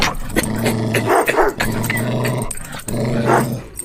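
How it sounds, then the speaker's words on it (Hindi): Ferocious dogs growling in a horror podcast effect, deep throaty snarls rising and falling in several close, loud bursts with brief yips and whimpers mixed in, no speech. "इन्हीं खूंखार कुत्तों से मरवाया है मिस्टर रॉय ने इन सारे लोगों को।"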